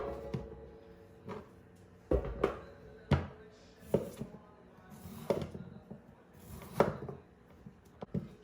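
A knife slices potatoes into thin pieces on a board in a rustic home-cooking setup, giving a string of crisp, close chops at an uneven pace over faint background noise.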